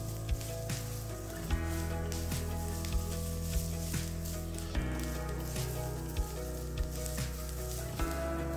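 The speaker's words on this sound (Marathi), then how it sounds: "हे सर्व जिन्नस परत आपल्याला भाजून घ्यायचं आहे।" Slices of ginger and coconut roasting in a pan give a soft, steady sizzle, with light taps from stirring every second or so and a low hum underneath.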